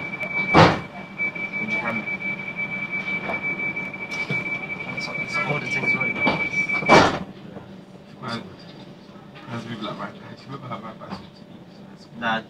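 Great Western Railway Class 387 electric train on a local run from Reading to London Paddington: a steady interior rumble with sharp clunks and door-like thuds, while people talk nearby.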